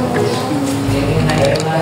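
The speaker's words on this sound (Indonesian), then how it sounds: "Kencangkan menggunakan tang." Pliers tighten a small cylinder on a hydraulic jack, giving close metallic ratcheting and gripping clicks over a steady mechanical hum, under someone talking.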